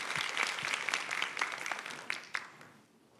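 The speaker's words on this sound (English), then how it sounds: "Let's give her a round of applause." Applause from a conference audience greeting a marketing executive, a moderate room-wide patter of many hands that thins out and fades to near silence by the end.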